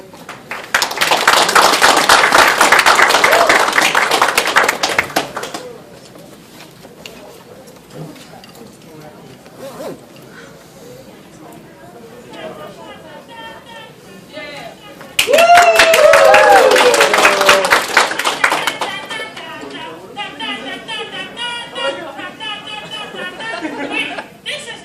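A convention closing-ceremony audience bursts into loud, dense applause for about five seconds, fades to scattered chatter, then claps and cheers strongly again for several seconds before settling into murmuring talk.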